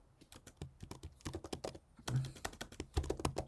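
Fast, uneven clatter of keys on a computer keyboard while C++ code is typed, crisp close taps in quick bursts with brief pauses between words.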